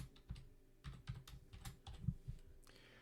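Typing on a computer keyboard in short irregular bursts of soft, close key clicks with brief pauses between groups, no voices.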